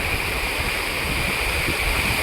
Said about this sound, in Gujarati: આ રીતે આ બધું પાણી કેટલું જાય છે